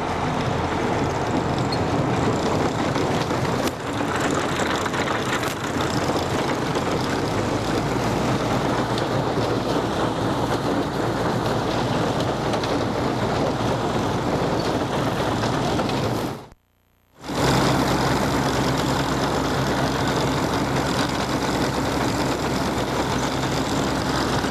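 A farm tractor engine runs in gear while planting oats, a loud steady low drone that drops out briefly before resuming at the same level.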